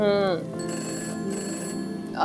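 A telephone rings briefly, an electronic chirping tone, with a voice and household noise mixed in underneath.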